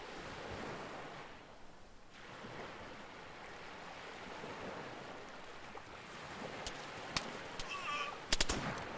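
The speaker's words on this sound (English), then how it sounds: "Can hear multiple gunshots still ringing out." Distant video-game gunfire pops sporadically over a steady roar of wind or surf, with a few sharper, closer shots near the end.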